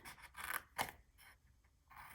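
Small scissors snipping paper for a handmade Christmas box, a few close, crisp cuts in quick bursts followed by quieter rustling and scraping of the paper, with no talking.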